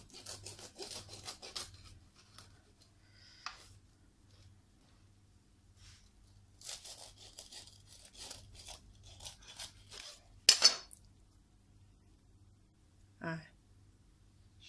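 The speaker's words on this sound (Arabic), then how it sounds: "نقطع لكم طريف منها باش تشوفوا كيفاش كتجي باقا سخونه" A knife saws through a warm piece of harcha, a semolina flatbread, in several bursts of rasping, crumbly strokes separated by pauses, with a few sharper knocks.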